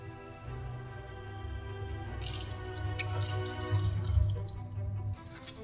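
Hands washed under a running kitchen tap, a steady close stream of water splashing into the sink with some louder splashes as the hands move through it.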